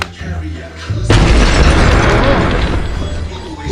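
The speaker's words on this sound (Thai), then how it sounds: "อันนี้เหมือนเป็นระเบิดทราไซ์นะครับ" A bomb blast in the city-destruction video game City Smash: a low, roaring explosion erupts suddenly about a second in and rumbles on loudly with crumbling debris, preceded by quieter game ambience.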